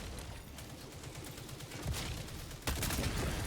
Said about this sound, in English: the bots have a really fucking weird way of shooting